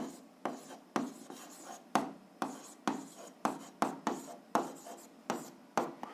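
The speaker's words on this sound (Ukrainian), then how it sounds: "Записуємо, що розв'язком є." Pen or chalk strokes as a math solution is written out by hand, with about a dozen crisp scratchy strokes at an uneven pace, close and clear with no talking.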